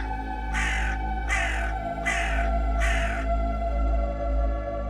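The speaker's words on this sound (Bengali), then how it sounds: "কাকটা কর্কশ স্বরে ডাকতে ডাকতে উড়ে গেল।" A crow gives four harsh caws in an even rhythm over a steady low hum, set as a sound effect in a rural Bengali ghost story.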